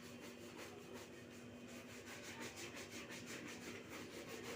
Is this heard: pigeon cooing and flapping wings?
no